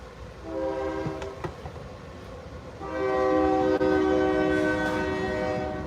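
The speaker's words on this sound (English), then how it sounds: "Let me wait for this train to pass." A passing train sounds its horn in long, steady blasts that grow louder midway and stay strong to the end, over continuous rumbling rail noise and without talk.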